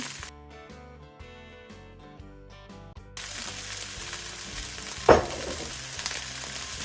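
Thai beef fried rice stir-fried with soy sauce and oyster sauce in a hot pan, a steady sizzle with scraping stirs; a brief sharp clatter stands out midway, and the frying grows louder and denser partway through.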